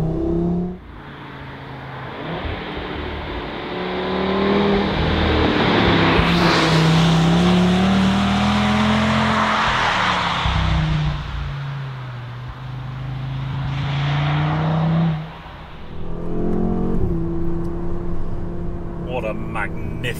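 2022 Audi RS3 Sportback engine accelerating hard on a winding mountain road, rising through the revs in long loud pulls with a brief drop between gears, and someone talking over it from inside the cabin.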